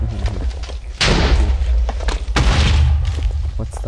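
Deep booming explosions in a video game, two sharp blasts about a second apart followed by rumbling thuds, with a voice talking in between.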